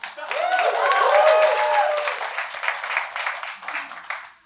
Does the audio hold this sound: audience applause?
yes